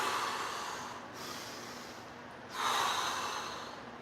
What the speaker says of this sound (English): Notice how I'm emphasizing the breathing.